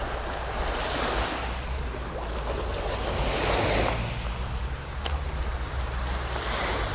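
Steady sea surf rolls against the seafront at Kuşadası, Turkey, a continuous loud wash of waves mixed with gusty wind buffeting the microphone.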